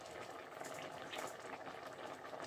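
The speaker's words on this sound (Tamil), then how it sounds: "இப்போ இதை இன்னும் கொஞ்சம் அவிய விட போகிறேன்" Rice and milk porridge (paal kanji) simmers in a pot, the rice having absorbed three cups of water, giving a steady, dense bubbling that continues unbroken throughout with no talk.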